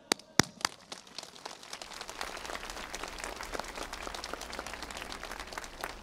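A crowd at an outdoor family-coalition rally in Oradea, Romania breaks into sustained applause, beginning with a few sharp claps that quickly thicken into dense, steady clapping.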